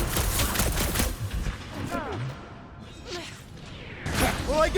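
Combat gunfire in the video game Marvel's Guardians of the Galaxy, dense bursts of shots and whooshing effects mixed with game music and characters shouting over the action.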